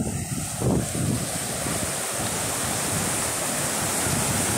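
Ocean surf at Praia do Cotovelo beach near Natal, Rio Grande do Norte, a broad continuous wash of waves heavily mixed with wind buffeting the microphone.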